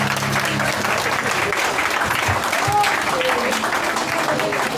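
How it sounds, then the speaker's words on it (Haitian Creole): A congregation gives a steady, dense round of applause at a church gathering, continuous and fairly loud throughout, with some voices audible beneath the clapping. "Un applaudissement pour Jésus."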